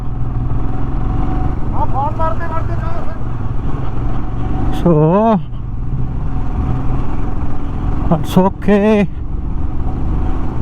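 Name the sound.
motorcycle engine jerking, low on petrol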